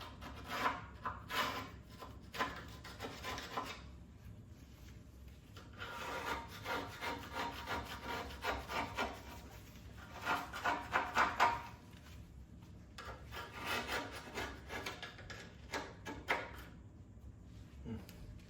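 A screwdriver scrapes old cement out of the griddle gasket channel on a Vermont Castings wood stove, giving repeated rasping strokes in bursts with short pauses, close and moderately loud.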